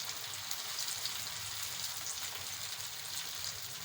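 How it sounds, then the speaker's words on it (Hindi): Potato balls shallow frying in hot oil, a steady close sizzle and crackle that carries evenly throughout with no talking. "हमें इसे शैलो फ्राई करना है,"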